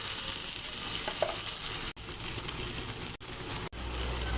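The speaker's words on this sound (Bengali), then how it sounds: "একটু ভেজে নেব।" Chopped capsicum with turmeric and other ground spices fries in a pan for cabbage rolls, giving a steady dense sizzle with soft stirring, interrupted by a few abrupt momentary dropouts.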